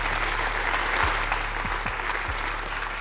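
An audience at a magic show applauds steadily and warmly, a dense wash of clapping that holds at an even level for the whole stretch, with a constant low hum underneath.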